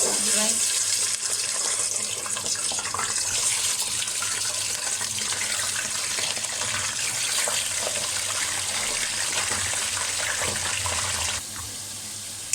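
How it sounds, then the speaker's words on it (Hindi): Chicken frying in oil in a large pot gives a loud, continuous hissing sizzle that holds steady for most of the time, then drops noticeably quieter just before the end. "अब हमने चिकन देखे हमने इसमें डाल लिया है फ्राई करने के लिए।"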